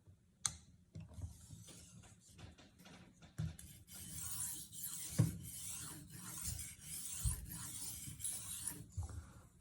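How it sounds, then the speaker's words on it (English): A Victorinox chef's knife is drawn freehand across an Arkansas sharpening stone, giving repeated quiet scraping and rasping strokes at a steady rhythm, close by, with no talking. "I'm going to use a Arkansas stone now and just guide it through freehand motion"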